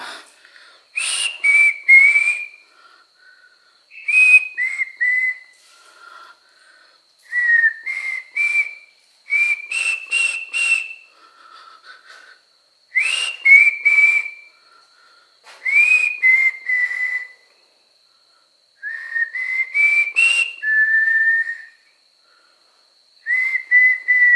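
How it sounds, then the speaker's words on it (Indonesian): A person whistles short pitched phrases close by inside an old Dutch fort on a mountain, pausing between each burst, with quiet gaps and no talking. "gue bakalan coba bersiul di dalam bentengnya"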